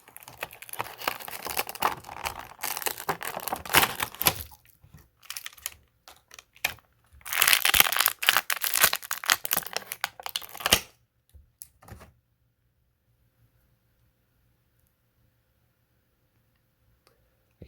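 Crinkling cardboard and plastic blister packaging of a carded Star Wars Vintage Collection Clone Commander Rex action figure being torn open, close up, in two busy bursts of tearing and crackling separated by a short pause, then quiet.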